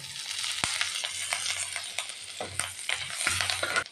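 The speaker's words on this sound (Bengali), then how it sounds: "এর মধ্যে আমি একটু বাটার দিয়ে দিলাম বাটার দিয়ে কি করব প্রথমে সর্ষে ফোড়ন দিলাম" Mustard seeds and curry leaves sizzle in butter in a pan with a dense, crackling hiss, broken by a few scraping stirs and pops, heard up close with no talking.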